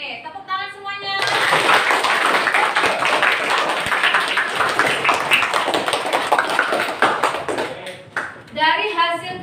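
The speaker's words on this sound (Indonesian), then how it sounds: "Oke, tepuk tangan semuanya." Sustained applause from a class after presentations, many hands clapping densely for several seconds, with brief children's voices before and after.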